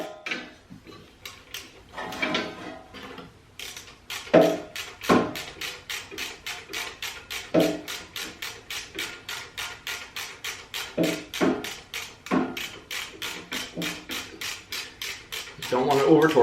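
A spark plug socket turning a spark plug into a generator engine, a rhythmic series of close ratcheting clicks and metallic taps, steady and repeated, with some handling noise at the start.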